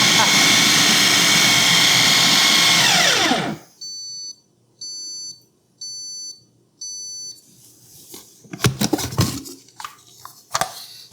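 A Cuisinart Complete Chef food processor chops onions with a loud, dense whirring for a few seconds, then stops. Several short electronic beeps follow, then clattering bowl and lid sounds.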